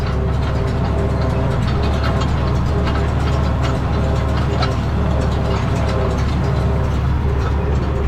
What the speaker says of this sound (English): It's fun raking 7-foot cuts. It's real easy with this rake.